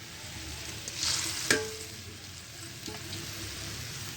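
Fish pieces are dropped into a boiling, spicy curry, giving a soft bubbling sizzle with a brief splash and clatter near the middle. It is fairly quiet and there is no talking.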